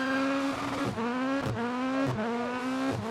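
A rally car engine in the video game Dirt Rally 2.0 (rallycross) revs high and loud, dipping briefly between gear shifts as it climbs again, with no talking.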